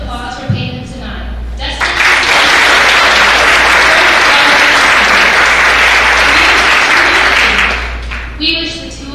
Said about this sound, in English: Can we have another round of applause for Peyton and Sonata?